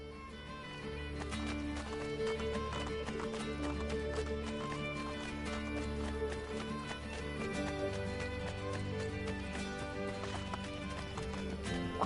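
Rapid hoofbeats gallop steadily over a busy musical backdrop, a horse running at pace in Assassin's Creed Brotherhood, with a faint whinny amid the rhythmic clip-clop.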